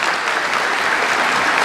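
An audience at an international congress on mobility policy applauds for the state of Zacatecas, with dense, steady, fairly loud clapping that fills the whole stretch without talk.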